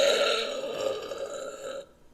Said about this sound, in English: Oh, that's a weird burp.